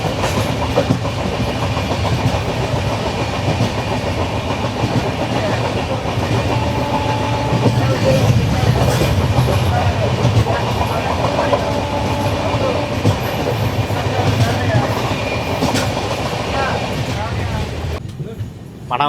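A passenger train runs on rails, wheels rolling and clattering with a steady, continuous rumble and rhythmic clicks from nearby, loud throughout until a brief drop at the end; voices are faintly mixed in.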